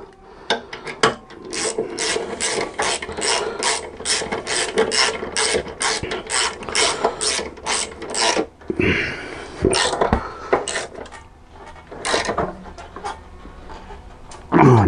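Ratchet wrench tightening the engine mount on a PSA 1.6 16V TU5JP4 engine, rapid close clicking bursts in repeated strokes with short pauses and a brief rubbing scrape in between.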